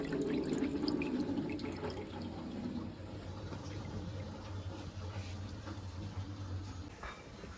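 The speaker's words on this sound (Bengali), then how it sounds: "ভালো করে একটু জল দিয়ে ধুয়ে নেব।" Water runs from a tap over dried fish being rinsed in a kitchen sink, a steady low splashing stream that stays faint and constant, with a louder rush of water at the start.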